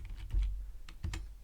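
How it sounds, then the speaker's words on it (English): Short, quiet clatter of keys being typed on a computer keyboard, a few irregular taps spread over about a second and a half, close by with no voices. "Now we can type in the word run."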